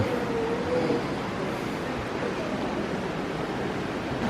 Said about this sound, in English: You can hear the sound of rushing water